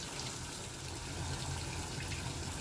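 Water runs steadily from a tap fed by an AquaHot diesel boiler system in an RV, a constant close gushing hiss with no break and no talk.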